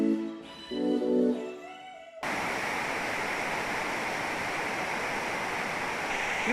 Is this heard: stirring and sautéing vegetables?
no